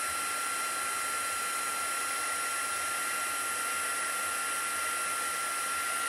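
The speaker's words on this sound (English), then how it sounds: "So turn our heat gun, and our heat gun is obviously now quite warmed" A heat gun blows hot air for embossing a silver Christmas tree card, a steady, even broadband whoosh held throughout at moderate level with no talk.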